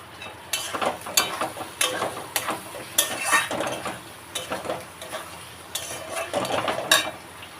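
Spice paste with garlic, ginger and tomatoes frying in a pan, with repeated scraping stir strokes and utensil clinks over a low steady sizzle, close and moderately loud, no talking.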